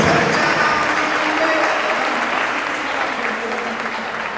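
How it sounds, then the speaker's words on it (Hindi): Strong applause from the audience at a Hindi kavi sammelan poetry gathering in Najibabad, Bijnor, a continuous dense roar of clapping that holds steady, with faint voices mixed in. "भाई एक बार जोरदार तालियां मंच की जरूर होनी चाहिए"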